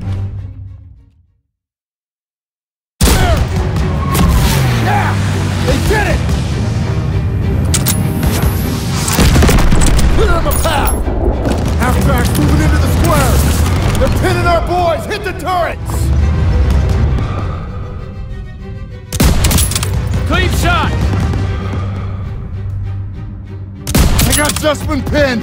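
Heavy gunfire and booming explosions from the Call of Duty WWII video game, loud and near, with bursts of rapid fire and repeated blasts under shouted soldier voices, broken by brief cuts to silence.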